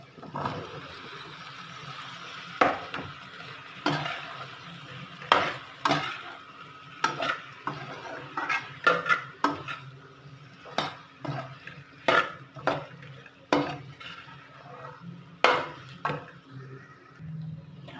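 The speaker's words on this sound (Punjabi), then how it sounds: "ਹੁਣ ਆਪਾਂ ਇਸ ਵਿੱਚ ਪਹਿਲਾਂ ਆਲੂ ਐਡ ਕਰਾਂਗੇ" A spoon scrapes and clanks against a pan as potatoes are stirred into roasted masala for an aloo baingan curry, with irregular sharp knocks over a low sizzle and no talking.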